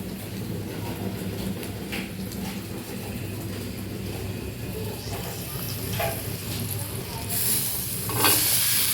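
Food fries in a pan with a continuous sizzle while a utensil stirs it, giving occasional scraping strokes that grow a little louder toward the end.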